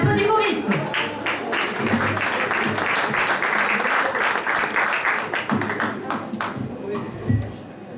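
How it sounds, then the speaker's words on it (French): A live audience applauds a singer with sustained, dense clapping that lasts the full stretch, fairly close and loud, while voices talk over the applause. "On applaudit Maurice."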